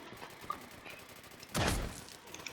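Gunfire in the online browser FPS game Kour.io, one short loud burst of shots standing out from a quieter game background, with little else around it.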